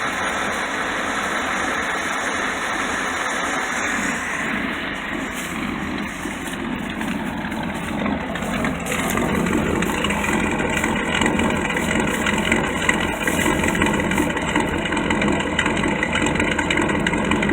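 A 1976 Dodge D100 pickup with a 318 V8 and a Quadrajet four-barrel carburetor idles close by, a steady rumble that gets a little louder and rougher partway through.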